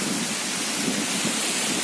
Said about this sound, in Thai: ฝนลงมาเลย